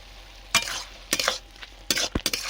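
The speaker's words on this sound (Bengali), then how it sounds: "এভাবে খুন্তির সাহায্যে একটু আমি ঘাঁটা ঘাঁটা করে দেবো" A spatula stirs a bottle gourd (lauki) curry with small shrimp as it fries, giving several brisk scraping strokes in quick bursts over a soft sizzle.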